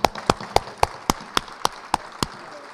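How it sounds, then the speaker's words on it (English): Hands clap at a men's basketball anniversary brunch to greet late-arriving coaches: about ten sharp, evenly spaced claps, close and distinct rather than a full crowd roar, with no talking. "Can we clap it up for them guys?"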